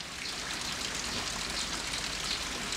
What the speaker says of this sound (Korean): 다음 날 아침부터 내리는 비에 발산말도 촉촉해졌는데요.